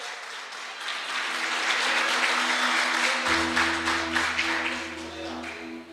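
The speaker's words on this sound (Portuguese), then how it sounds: "pode aplaudir a Deus?" A church congregation applauds God, a broad wash of clapping that swells and holds, joined midway by a sustained low organ or keyboard chord beneath the crowd.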